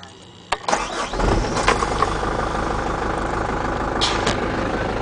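A Mitsubishi box truck's engine cranks briefly, catches and settles into a steady mid-pitched idle that runs on alone to the end, with a couple of faint clicks over the idle.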